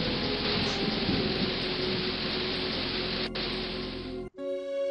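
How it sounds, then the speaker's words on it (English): A storm in King's Quest III Redux plays as loud, steady rain hiss with a low rumble of thunder underneath, holding evenly for about four seconds before cutting off abruptly into a brief musical tone. "Okay, we're gonna brew a storm incorrectly."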